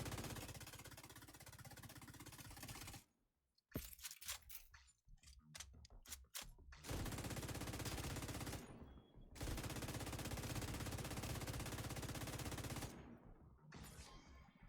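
LMG machine gun fire in The Division 2 video game: loud, dense sustained bursts with brief breaks and a stretch of scattered shots in between.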